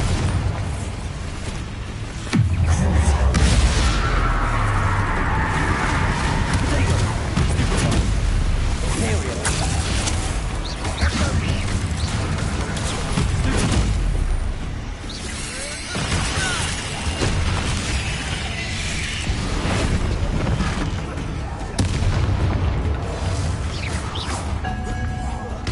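The Bombarda blasting spell fires in a Harry Potter video game, sending loud booms, crashes and rumbling impacts over a dense game soundtrack, with voices speaking over the action.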